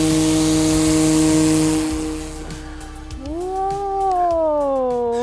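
Electric motor of a large Phoenix 2400 RC glider at full throttle during a hand launch, a loud steady high whine with a sharp pitch swoop upward then gliding down as it climbs away.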